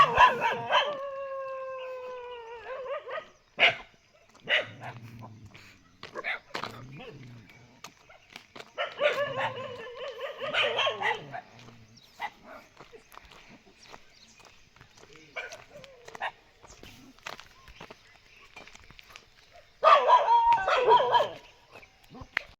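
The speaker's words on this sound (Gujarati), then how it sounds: "ત્યાં ભાઈ સવારના પોરમાં કૂતરાની બાંધણી ચાલુ થઈ ગઈ છે. લડાઈ હાલે છે." Several street dogs fight in two groups in the early morning, barking, howling and snarling in bursts, with a drawn-out whining howl at the start and loud scuffling clashes later, under occasional background voices.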